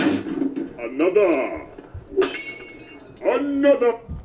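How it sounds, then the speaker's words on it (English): A coffee mug smashes during a Thor movie scene, a short breaking crash heard among spoken dialogue. "Smashing his coffee."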